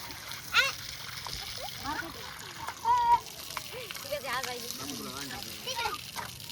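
Children splash water outdoors, with sloshing splashes and splatters rising now and then under steady talk and chatter from several voices.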